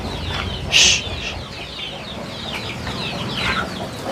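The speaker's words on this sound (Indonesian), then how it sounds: "Ya Allah, ini ayam galak-galak banget ya." Chickens at a home-based farm give scattered clucks and squawks, with one louder sharp call early, over a noisy outdoor background.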